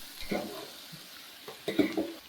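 Country chicken curry being stirred in a pan, with a few soft scraping and clinking strokes against the pan over a low sizzle, fairly quiet and alone.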